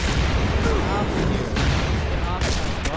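Dense, rapid gunfire from a zombies video game on an Area 51 map, with rattling bursts and booming shots, loud and continuous for the whole stretch, while players talk over it.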